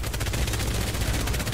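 Rapid automatic gunfire from Apex Legends rattles in a dense, fast burst throughout, loud and close, with no voices over it.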